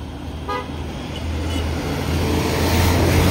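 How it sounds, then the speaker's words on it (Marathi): Road traffic with a car passing close by and a short horn toot early on, the engine rumble building steadily louder toward the end. "इकडे ट्रॅफिक झाला."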